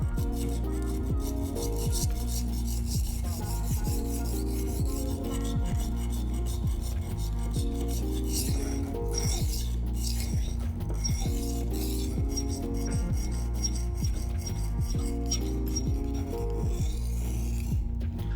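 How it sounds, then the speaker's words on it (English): A knife blade is ground on the coarse stone of a HORL rolling sharpener, a harsh repetitive rasping scrape that moves back and forth in a steady rhythm, with light metallic clinks. "It's gonna sound kind of nasty, but we're just grinding away and we're trying to get an edge reset."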